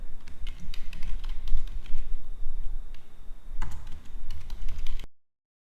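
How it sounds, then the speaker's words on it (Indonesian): Someone types a prompt on a computer keyboard in a steady run of close, crisp key clicks with brief pauses, stopping abruptly near the end. "saya ketikkan yang prompt yang sederhana aja ya"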